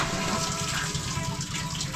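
Water runs steadily from a tap into a container below, a close and continuous gush that stays even throughout.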